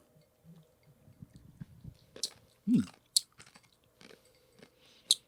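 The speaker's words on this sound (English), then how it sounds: "a little ice crunch thing" Ice is crunched between the teeth while drinks are tasted: soft irregular chewing and biting noises, then a few louder, sharp crunches spaced a second or so apart, close and quiet overall.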